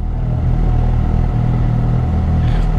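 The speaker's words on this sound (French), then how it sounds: "C'est une petite moto." A small motorcycle rides past on a road in Brittany, its steady mid-pitched engine drone loud and close throughout with a slight clattering rumble.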